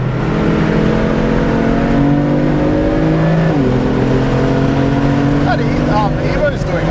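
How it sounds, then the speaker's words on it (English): A BMW F80 M3 pulling onto a track straight, its engine loud and droning steadily from inside the cabin, pitch shifting as it gathers speed, with people talking over it. "looks like we're picking up some speed as we head out onto the straight"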